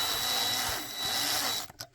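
A power drill bores into a Hot Wheels die-cast car chassis, a steady close whirring grind that runs for over a second and a half, then stops with a few short bursts.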